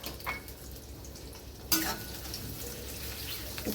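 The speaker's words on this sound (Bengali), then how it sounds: "খুন্তি দিয়ে পেঁয়াজগুলো ভালো করে নেড়ে নিচ্ছি।" Thinly sliced onions fry in a pan and are turned with a metal spatula, making a soft sizzle broken by scraping and clinking strokes.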